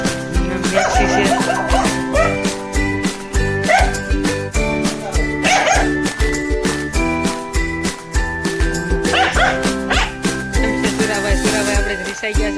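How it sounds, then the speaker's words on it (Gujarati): A house dog barks and yips repeatedly at close range in a home, with jingling tinkles and faint whimpers mixed in over about twelve seconds. "ઘરે કૂતરું પણ છે"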